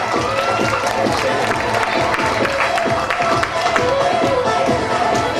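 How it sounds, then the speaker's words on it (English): At a St. Marys gathering, an audience claps and cheers for two volunteers coming up front. The dense, steady applause is close and loud, with scattered shouts mixed into the crowd noise. "Give these 2 a round of applause for coming on down."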